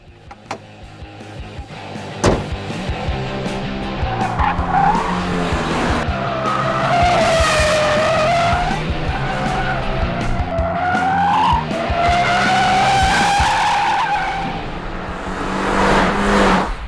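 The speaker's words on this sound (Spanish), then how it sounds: "que Nacho está deseando derrapar" A Toyota GR86 drifts with tires squealing and skidding in long sweeping howls over a revving engine, loud and close, sustained for the whole stretch with rising and falling pitch.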